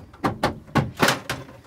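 A fold-out shower panel inside a 2004 Timberland Freedom 2 motorhome is folded shut, giving five sharp clunks and knocks at an uneven pace, close and fairly loud with no talk.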